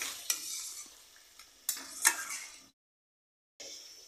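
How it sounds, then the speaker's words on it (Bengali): Mutton curry being stirred in an open pot, a close scraping and shuffling with sharp spoon knocks on the pot and a faint sizzle, pausing in silence near the end before stirring resumes. "বন্ধুরা, ঢাকনা খুলে আমি একটু মাংসটাকে নেড়ে দিচ্ছি।"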